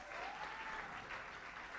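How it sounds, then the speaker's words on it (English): An audience at a book event claps, a dense, even patter of many hands that holds steady through the moment and sounds moderately distant. "Can you give him a round of applause?"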